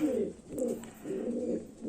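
Pigeons coo in low, repeated rolling phrases at a pigeon seller's home, three or four close, fairly loud bursts in a steady rhythm with no talk.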